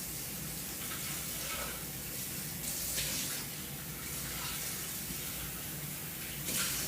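Tap water runs steadily into a kitchen sink while a container is rinsed out after preparing raw vegan food, a constant close hiss with a few brief splashy bursts, no one talking.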